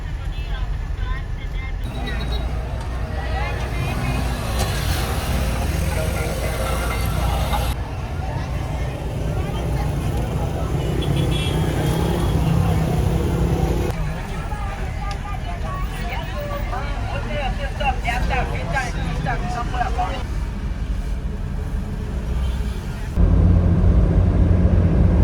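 A hot, crowded car on a long road trip through Monrovia, Liberia hums with steady engine and road rumble, punctuated by passing traffic and bumps, while people talk inside.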